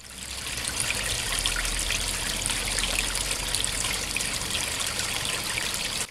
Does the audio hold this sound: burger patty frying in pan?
no